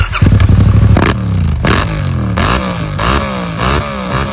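A Yamaha R7 motorcycle engine with a full aftermarket exhaust, loud and raspy, roars up close, revving sharply several times with crackling bursts between throttle blips.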